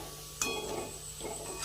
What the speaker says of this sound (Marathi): छान असे गुलाबी रंगावरती आपण तळून घेऊया